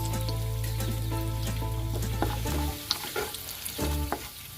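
Spices, turmeric and red chili powder with onion, ginger, garlic and mustard paste frying in a pan for a taro root dish: a loud, constant sizzle with a low hum, then stirring scrapes and clicks as it quiets.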